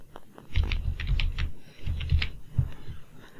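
A username is tapped out on a computer keyboard, a close, uneven run of quick key clicks in two short bursts with a brief pause between.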